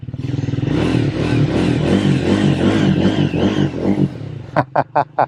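A Triumph Speed 400 motorcycle rides off with a rising, pulsing engine note that climbs through the revs, then drops to a few sharp throttle blips near the end, loud and close.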